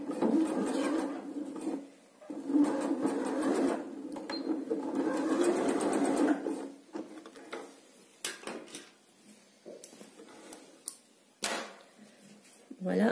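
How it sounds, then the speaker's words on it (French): A sewing machine stitches fabric in a steady, fast whirring run for about six seconds, then stops and gives way to scattered clicks and handling noises, with a person talking throughout. "on vient planter l'aiguille, on lève le pied presseur, on rebaisse le pied presseur et on finit."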